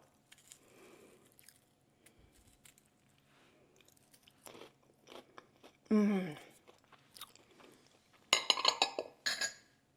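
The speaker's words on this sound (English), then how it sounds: "That is worth doing just to have it as a dry, crunchy snack that you can use with a dip." Freeze-dried broccoli florets are bitten and crunched as a dry snack, with sharp crisp bites and chewing coming in a few loud bursts close up between quieter stretches with light clinks.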